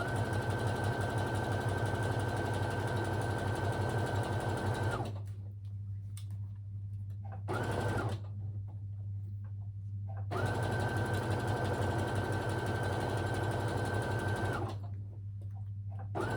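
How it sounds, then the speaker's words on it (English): Sewing machine running steadily while stitching around a pair of trousers, loud continuous motorized whirring in long bursts, stopping briefly between runs and then starting again; no talking. "I'm just gonna sew it all the way around."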